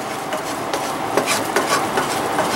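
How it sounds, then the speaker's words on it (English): A spoon stirs ingredients through mac and cheese in a pot, giving close, loud, continuous scraping and squelching strokes in an uneven rhythm, with no talking. "Next I'm going to stir in the everything else."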